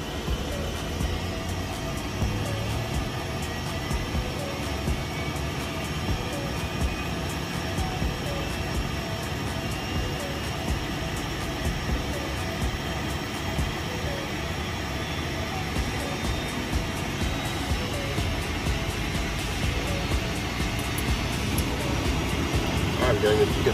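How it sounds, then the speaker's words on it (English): An Embraer Phenom business jet's left engine spools up for start on the ramp, a steady broadband roar with a high whine, heard from inside the cockpit and rising slightly toward the end. "And we'll start our left engine now."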